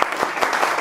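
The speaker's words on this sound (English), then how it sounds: "Please clap for yourself." A small group in a classroom debate session claps briefly, a few close, uneven hand slaps blending into a short ragged patter.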